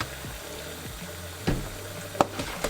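Distilled white vinegar pours into a soaking bin in a short, close, low splashing trickle with a couple of sharper splashes and knocks.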